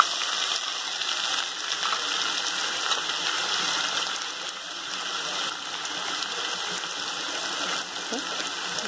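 Sliced onions hit hot oil and fry in a pan, a steady close sizzle and crackle like light rain, continuing throughout.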